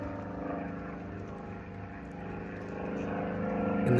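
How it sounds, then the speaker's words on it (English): A low-flying airplane drones overhead above a cornfield, a steady rumbling hum that builds louder toward the end, with no talking. "sorry for the loud noise of the airplane that's flying over low"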